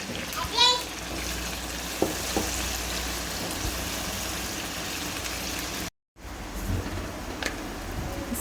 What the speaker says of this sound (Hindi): लहसुन अदरक शामिल करने के बाद इसको थोड़ा सा भूनेंगे